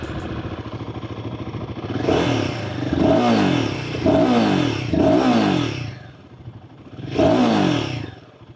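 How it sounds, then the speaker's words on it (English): A Royal Enfield Guerrilla 450 motorcycle engine, a modern retro bike of about 40 hp, idling and then blipped through four sharp revs that climb and fall back, loud and close, with no talk. "this sound and feel from this engine is a little more engaging"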